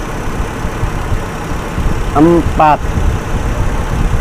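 A Toyota Kijang Super engine idles during a tune-up, a steady low hum running under a voice throughout.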